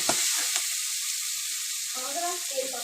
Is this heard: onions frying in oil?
yes